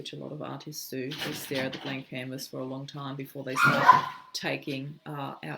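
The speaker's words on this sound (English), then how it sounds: "That is my dog going absolutely nuts because there's a water dragon on our driveway" A dog barks and yips repeatedly at a water dragon on a driveway, the sound distant and muffled and partly under a person speaking close by.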